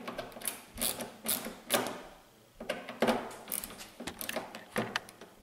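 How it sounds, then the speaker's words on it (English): Small T10 torx screws are backed out of a Porsche Cayenne headlight housing, making bursts of ratcheting mechanical clicks with short pauses between them. The sound is close and no one speaks. "remove these two torque screws on the bottom here. Those are a T10"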